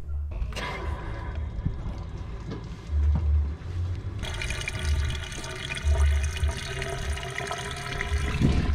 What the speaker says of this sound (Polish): ja słyszę, że woda już jest coraz wyżej, no więc już jest najwyższy czas, żeby zakręcić